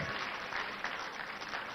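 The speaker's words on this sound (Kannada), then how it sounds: "ಚಪ್ಪಾಳೆ ಜೋರಾಗಿ." Loud audience applause fills a Kannada television program hall during a memory and handwriting expert show, a dense, steady wash of many hands clapping together for under two seconds, with no talk over it.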